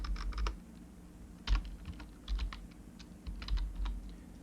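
Quiet typing on a computer keyboard while entering a database password, with short bursts of soft key clicks separated by brief pauses and no talking.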